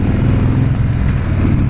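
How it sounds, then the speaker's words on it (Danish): A Harley-Davidson Road King motorcycle accelerates out of a bend, its engine a loud, close, steady low rumble pulling hard for a couple of seconds. "Mærk, hvordan motoren trækker, når man accelererer ud af svinget."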